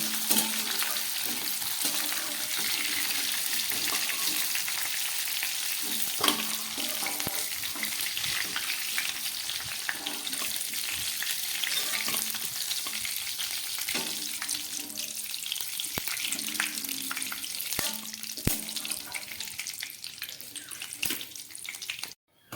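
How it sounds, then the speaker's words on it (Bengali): Cauliflower florets frying in oil over a low gas flame, a steady close sizzle running throughout with occasional stirring clicks and scrapes, no talk. "খুব ভালো করে কপিগুলোকে এটা ভেজে নেব।"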